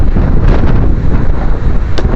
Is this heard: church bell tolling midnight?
no